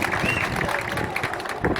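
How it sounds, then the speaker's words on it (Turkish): A dense, continuous wash of applause from a crowd at a sugar factory event in Çorum, steady and fairly loud, with crowd murmur blended in. "Bir alkış verin canım"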